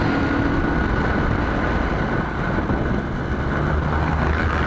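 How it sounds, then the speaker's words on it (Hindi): Large container trucks rumble close by in heavy traffic in an industrial area, recorded while riding a bike from Pak Colony to Sohrab Godam: a loud, constant roar of engines and road noise with buffeting wind on the microphone. "देखो बड़े बड़े कंटेनर करीब से गुजरते हैं।"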